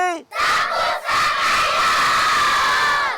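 A large outdoor crowd at a village celebration in Bandrelé, Mayotte, shouts together in a loud, sustained roar that breaks off briefly twice, with voices whooping and cheering close by.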